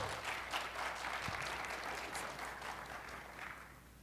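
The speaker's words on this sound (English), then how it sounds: "Let's give him a very loud round of applause" A small conference audience at morning lightning talks gives the speaker a round of applause, a steady wash of clapping that is fairly distant and soft, gradually tapering.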